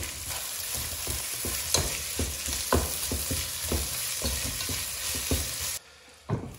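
Onions fry in a pan for chicken biryani, a dense, constant sizzle punctuated by rhythmic spatula stirs nearby, cutting out abruptly near the end before a final scrape.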